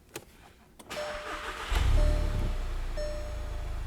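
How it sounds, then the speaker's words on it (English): An old Volkswagen Jetta being readied for an MK7 GTI swap cranks briefly, then catches and starts, settling into a loud, steady idle with a faint whine on top. "We're going to start the car and test to see if it's going to run."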